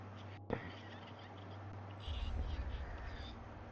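Faint bird caws in Destiny 2 Crucible gameplay, a sharp crow-like call over a low droning hum with rumbling game noise building afterward.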